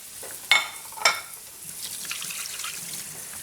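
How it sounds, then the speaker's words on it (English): A tap runs as hands are washed in a home kitchen while hake fries in a pan, with two sharp splashy bursts early on, then a steady soft hiss of running water. "I'm just going to wash my hands"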